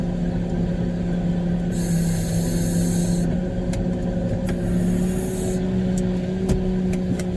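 A concrete truck's diesel engine idles steadily on a slab pour, a constant low rumble with brief hissing bursts like air release and a few sharp knocks over the top.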